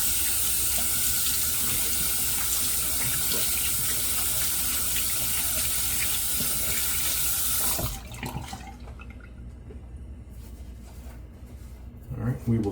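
A tap runs loud and steady for about eight seconds during handwashing, then shuts off, leaving quieter splashes and handling sounds.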